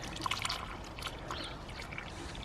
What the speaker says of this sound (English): all you do, literally fill the hole with water and it's finished